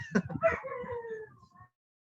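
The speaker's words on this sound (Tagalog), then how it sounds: "Palayasin ko muna yung mga aso dito" A dog howls and whines in one drawn-out, wavering cry that fades after about a second and a half, fairly close and alone.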